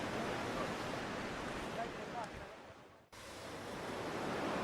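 Sea surf roars where the Gulf of Riga meets the Baltic Sea at Kolka, Latvia, as a dense continuous wash of breaking waves that eases briefly, then builds again, with no voices over it.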